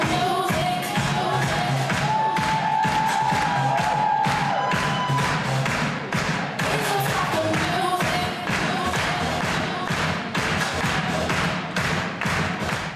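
Audience in the König-Albert-Theater in Bad Elster cheering and applauding at the end of a dance show, a dense, loud, continuous wash of clapping and shouts with music underneath.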